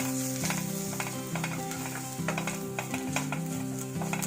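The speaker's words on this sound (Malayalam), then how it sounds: "ഇനി നമുക്ക് ഇതിനകത്ത് അല്പം ഇതിന്റെ മുളകിന്റെ ഒരു പച്ചമണം അല്പം ഒന്ന് മാറുന്ന വരെ ഇളക്കി കൊടുക്കാം." Chicken tossed with chilli, coriander, pepper, turmeric and fenugreek powders in a pan for a Kerala-style stir fry, a soft continuous sizzle with repeated spatula scrapes and stirring, heard alone at a modest level.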